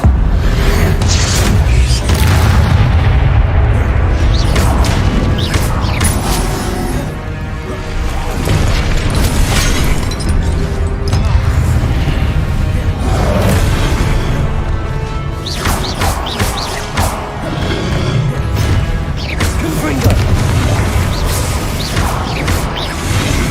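Repeated Confringo spell blasts in Hogwarts Legacy, loud crashing booms and whooshing bursts layered over a dense, busy game soundscape throughout, with several sharp impacts spaced irregularly.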